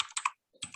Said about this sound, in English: So let me see if I can type some of these in the,